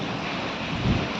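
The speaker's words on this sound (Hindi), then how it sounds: "तेज़ हवा पूरे ज़ोर शोर से चल रही है।" Strong wind roars steadily during a dust storm with rain, a loud unbroken rush buffeting the microphone.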